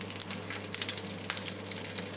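Witlof sizzles in light olive oil in a pan, a soft steady frying crackle with small pops, quiet and close.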